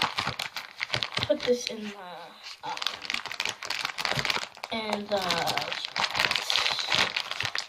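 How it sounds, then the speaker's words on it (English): Plastic packaging around squishy toys crinkles and rustles continuously up close, with brief talking partway through. "Sorry if you don't like the crinkling noise."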